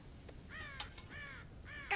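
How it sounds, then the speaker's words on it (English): Crows caw repeatedly in the Red Dead Redemption video game, three or four harsh calls in a steady sequence against a faint ambient background near a farm silo. "God damn crows!"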